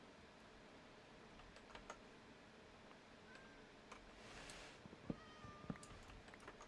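A cat meows in a modded Minecraft world, a few faint short calls scattered over a quiet background with soft clicks.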